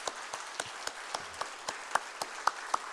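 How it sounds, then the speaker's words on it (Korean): A church congregation at a Friday worship service claps to welcome two visiting pastors, a soft and fairly sparse patter of hands with distinct individual claps, faint and a little distant. "뜨거운 박수로 우리 환영하십시다."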